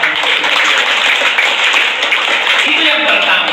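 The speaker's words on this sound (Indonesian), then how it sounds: "Kita berikan tepuk tangan." Steady, dense applause from a large audience at a corporate gathering, a continuous wash of clapping filling the whole stretch without pauses.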